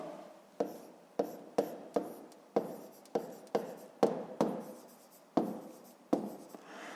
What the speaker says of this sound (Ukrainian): Пишемо такі числа.